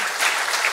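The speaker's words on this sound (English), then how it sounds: "Where's my thunderous applause?" A brief burst of audience applause at a programming talk, a dense, close wash of clapping lasting under a second with no voices.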